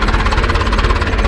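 An Ursus C-360 tractor engine runs loud and close, its rapid, rhythmic knocking pulses repeating evenly with a heavy low rumble underneath.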